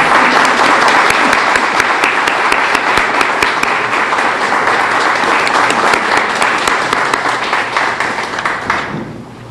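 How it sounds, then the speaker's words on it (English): An awards ceremony audience gives a final round of applause, loud dense clapping with a few sharper individual claps standing out, sustained for about nine seconds before fading away. "And one last round of applause for our amazing entire."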